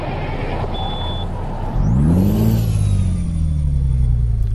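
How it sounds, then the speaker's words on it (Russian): A Kenworth W900 truck with a Cat engine in Euro Truck Simulator 2 cranks and fires up, the engine catching with a rising rev that settles into a loud, steady rumbling idle. "Ну что ж, запускаем двигатель."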